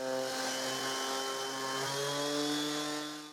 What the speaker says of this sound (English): This wood paste is this easy to sand with an orbital sander.